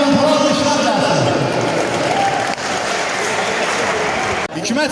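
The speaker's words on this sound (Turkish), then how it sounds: "İdmançılarımıza alkışlar, gürültülü alkışlar gelsin." Applause for athletes at an award ceremony in Aghdam: dense, loud clapping from a crowd runs steadily for several seconds, briefly dipping near the end, with voices mixed in.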